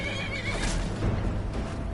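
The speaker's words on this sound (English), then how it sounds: "Oh, I hit my horsey" A horse in the video game Skyrim whinnies loudly in a shrill, quavering neigh that fills the whole moment, with a faint hoof clatter beneath it.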